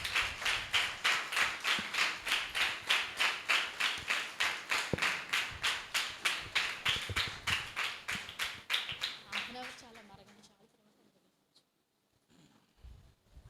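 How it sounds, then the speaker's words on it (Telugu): A church congregation claps in a steady rhythmic unison to welcome the pastor, the even beats continuing loudly before trailing off into near quiet. "వారు మన మధ్యలోకి వస్తుండగా మనందరూ కూడా చప్పట్లు కొట్టి ఆహ్వానిద్దాం."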